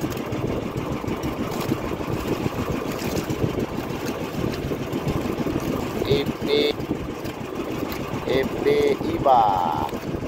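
A steady chugging fishing boat engine rumbles throughout, close and continuous, with faint voices and a few brief higher tones over it.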